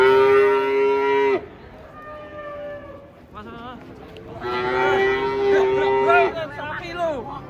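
A large cow being unloaded from a truck moos loudly and close by, giving one long low call, a pause, then a second drawn-out moo that breaks into wavering cries, with faint voices in the background.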